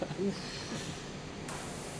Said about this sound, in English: I think you can spray it, like, yeah, there you go.